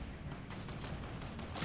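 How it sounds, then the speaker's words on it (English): Assault rifle fire in the Fortnite video game, rapid bursts of gunshots popping in quick irregular succession, faint and distant with no talk over it. "Why am I shooting an AR?"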